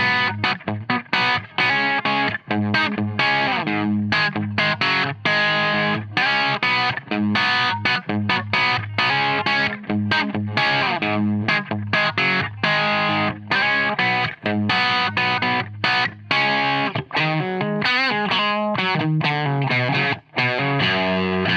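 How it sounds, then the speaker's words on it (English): Electric guitar played through a Digitech Blues Screamer overdrive pedal gives a continuous run of driven chords and notes, loud and close with a gritty, sustained tone and no talking. "I'm really impressed with the Blues Screamer at this point. It really does sound like a Blues Driver style overdrive."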